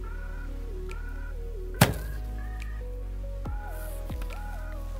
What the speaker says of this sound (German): So, und dann mache ich meinen Schuss